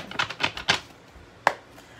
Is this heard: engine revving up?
no